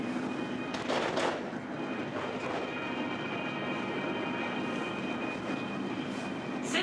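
The CairnGorm Mountain funicular railway train runs in the Scottish mountains, giving a steady, even rumble with soft rolling clatter that holds at moderate volume throughout.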